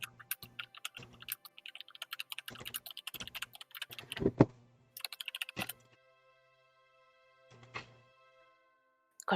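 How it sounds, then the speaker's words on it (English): Rapid clicky mechanical keyboard keystrokes come in bursts, with louder clacks and pauses between flurries, close up as if picked up by a nearby desk microphone, with no talking over them. "my mic is picking up my Clicky clackies. keyboard again"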